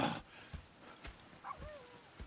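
Horses in the Red Dead Redemption 2 video game give a few soft hoof clops and a faint snort or whinny, quiet and spaced out over a low ambient background.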